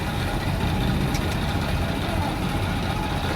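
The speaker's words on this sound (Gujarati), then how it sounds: "સામે ટ્રેક્ટર છે જે સામે ટ્રેક્ટરમાં પાણી ભરવાનું પણ ચાલુ" A tractor idles in light rain while it is being filled with water, giving a steady, fairly loud low engine rumble with broad mechanical noise that holds unchanged throughout.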